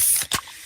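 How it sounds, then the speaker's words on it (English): Fizz of a freshly opened Pepsi, heard as a short bright spray-like hiss lasting well under a second, close and fairly loud, with a brief burst in the middle and no voices. "that's the sound of a freshly opened fizz-filled Pepsi."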